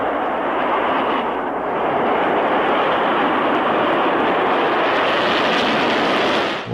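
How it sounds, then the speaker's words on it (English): Missile liftoff from Vandenberg heard over radio, a loud continuous broadband roar that holds steady throughout, with no talk over it. "All cameras rolled as they heard liftoff from Vandenberg over their radio."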